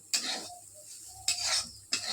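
Potatoes sizzle in a hot pan while a utensil scrapes and stirs in three sharp bursts, with a soft frying hiss between them.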